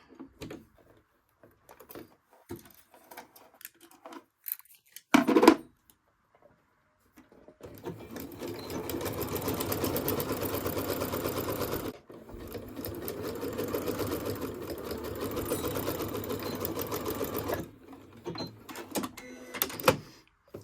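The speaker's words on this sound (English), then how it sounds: "Now we're going to take this to the sewing machine and sew down here." A sewing machine runs in two long steady bursts of rapid stitching on quilt fabric, close by, after some quiet handling clicks and a short rustle.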